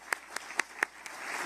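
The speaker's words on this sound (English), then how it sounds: "Let's give another round of applause for Governor" Applause for Governor DeSantis at a Momma Bears and Books gathering comes as a handful of sharp, separate claps spaced irregularly, fairly faint and then thickening slightly into a soft patter at the end.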